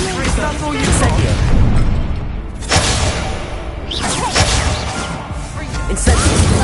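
Incendio fire spell cast in the Hogwarts Legacy video game during a duel, loud whooshing fiery bursts and booming impacts repeating over a dense, continuous magical battle din.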